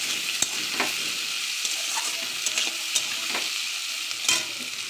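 Five chopped onions sizzling in hot oil in a pan while a spatula stirs them, sharp scraping clicks over a steady close frying hiss.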